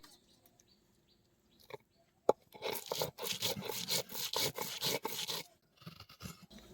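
Coriander, cumin and dried chilli are ground together in a dense run of rhythmic crunching and rubbing strokes, close and moderately loud, after a quiet start.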